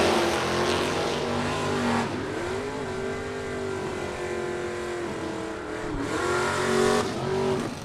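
A '73 Chevy Nova and a '74 Plymouth Duster launch side by side at a drag strip, their engines roaring loudly and dropping in pitch between gear changes before revving high again, with no voices.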